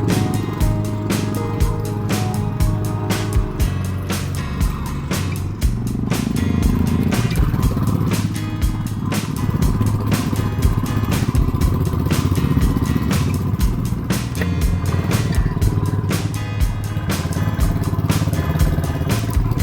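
A touring motorcycle ridden along a mountain tarmac road in Arunachal Pradesh, northeast India, keeps up a loud continuous engine drone with clattering road noise and wind throughout.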